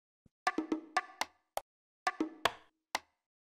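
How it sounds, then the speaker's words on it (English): Drum rack of hand percussion, bongos and congas, with about a dozen sharp, dry hits in a loose syncopated pattern, clustered in two quick phrases with gaps, quiet and close with no voices. "They're kind of like, hand percussion, like bongos and congas and all that kind of stuff"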